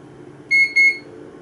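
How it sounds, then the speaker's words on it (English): An HP DL360 G7 server gives two short, bright electronic beeps in quick succession at boot-up, loud and close over a low steady fan hum. "it gives us a little beep telling that it's going to boot up to Proxmox"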